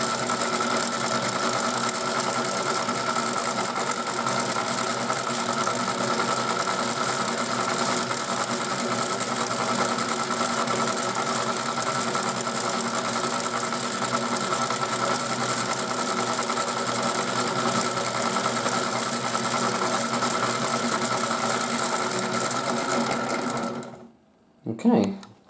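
A 1980s Nikko America Mighty Washer toy washing machine runs its wash cycle with a loud, steady mechanical whir and motor hum that continues unbroken before cutting off near the end, followed by a brief clunk.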